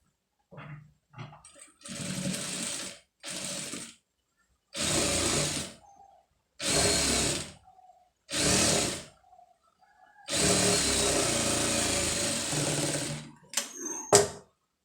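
A sewing machine stitches an embroidered sleeve in a run of separate bursts, short at first and then a long steady whir near the end, each followed by a silent pause, with no talking.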